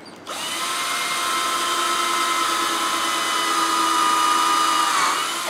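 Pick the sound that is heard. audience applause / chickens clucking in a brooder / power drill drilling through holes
power drill drilling through holes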